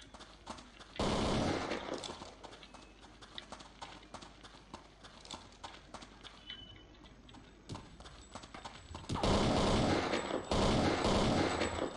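Gunfire in Counter-Strike: Condition Zero, with a loud burst of shots near the start and another sustained burst toward the end. Quieter clattering game sounds fill the stretch between them.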